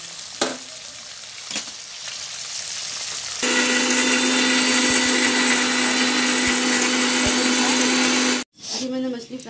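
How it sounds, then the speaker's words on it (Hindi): A mixer grinder grinds fried spices in a loud, steady motorised whine for about five seconds before cutting off abruptly. Quieter kitchen sounds come before it and a short rattle follows. "तो फ्राई करके मैं इसके मसाले पीस लेती हूँ।"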